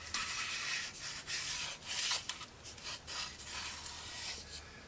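A plastic brush rasps and scrubs against the dry cardboard cone of a Peavey Black Widow 1508 speaker in short, uneven strokes, close and fairly quiet, with no talking.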